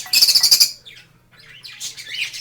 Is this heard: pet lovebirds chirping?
yes